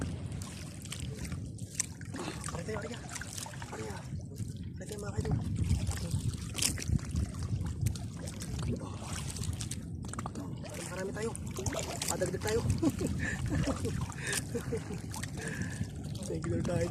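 Waves slosh against a small fishing boat at sea during handline fishing as the wind strengthens, a steady rushing and splashing that grows louder midway, with people talking over it.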